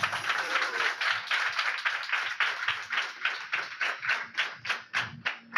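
People clap their hands together in a steady, even rhythm, with many quick claps in a row at moderate loudness and no talking.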